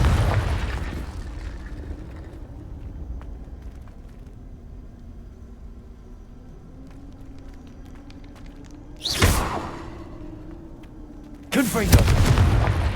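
Confringo fire spell blasts in Hogwarts Legacy, two loud booming explosions cutting through a low ambient background, with a voice calling out between them.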